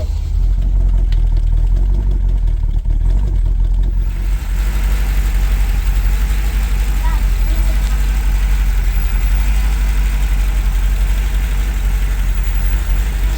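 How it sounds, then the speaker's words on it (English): A 6.1L HEMI V8 in a Jeep Grand Cherokee SRT8 idles steadily after a fresh engine build, with a deep, continuous low rumble that holds evenly throughout and no voices. "Lifters came good pretty much as soon as it came off of cold start. It's running beautifully."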